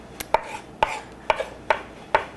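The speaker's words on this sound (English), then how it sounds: "Alright, chopped up nice and fine." Five crisp knife strikes on a cutting board while okra is chopped, each a sharp, close tap spaced about half a second apart, with no talking.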